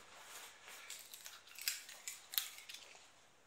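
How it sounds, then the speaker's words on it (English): A Dragon Punch trading card game pack is opened, likely cut with scissors: a few sharp, close snips against a quiet background, fairly faint overall, with no speech. "Let's just get this pack open."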